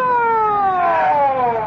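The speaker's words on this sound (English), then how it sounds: "What's the ambulance for?" An ambulance siren from a radio drama wails in steady descending tones, loud and up close, with no voices over it.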